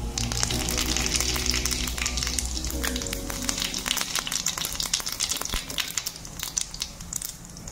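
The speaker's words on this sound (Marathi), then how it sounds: "त्यानंतर त्याच्यामध्ये टाकूया थोडंसं जिरं।" Cumin seeds sizzle and crackle in hot oil in a pan, a steady frying hiss with sharp spatters and a stirring clatter running throughout, close and fairly loud, with no talking.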